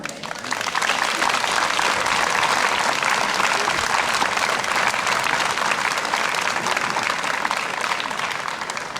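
Concert audience at an arboretum gives sustained applause, a thick, continuous roar of clapping that swells in after a moment and holds steady, with faint crowd murmur beneath.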